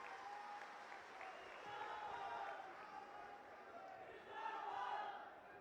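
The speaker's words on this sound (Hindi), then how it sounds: "एक बार जोरदार तालियों से हम उनका स्वागत करते हैं" A large crowd applauds at a Congress election rally as Rahul Gandhi is welcomed, a dense, continuous wash of clapping and crowd noise that swells near the end.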